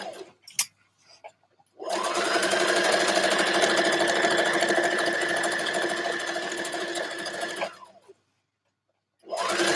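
A sewing machine runs a steady stitch along a dress seam, one long continuous whirring burst of about six seconds after a brief clatter, then it stops before starting again.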